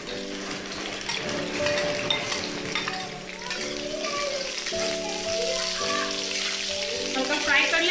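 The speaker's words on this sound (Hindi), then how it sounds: "पहले हम सब्जियों को फ्राई कर लेंगे, गोभी और आलू को।" Cauliflower and potato pieces frying in oil in a pan, a steady crackling sizzle with occasional clinks of a utensil stirring, and someone talking over it.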